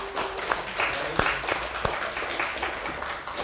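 A church congregation applauds together, a dense and steady patter of many hands clapping throughout at moderate loudness, with a few sharper individual claps standing out.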